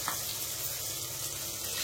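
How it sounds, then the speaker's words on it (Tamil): Water pours steadily into a cooking pot of fish curry with a continuous gushing splash, close by and fairly loud. "இப்போ தண்ணி வந்து இன்னும் கொஞ்சம் தண்ணி கூட நான் ஊற்றிக்கிறேன்"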